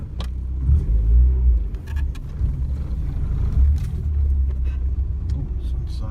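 A 1990 Mazda 323 with a straight pipe and stock muffler idles and pulls away nearby, a steady low exhaust rumble with throttle swells, plus faint jangles and clicks inside the car.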